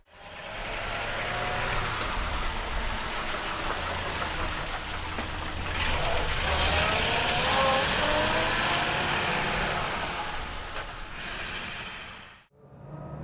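A 1935 Ford Cabriolet engine runs steadily with a loud, broadband rumble and rushing noise that holds nearly constant for about twelve seconds before cutting off abruptly near the end.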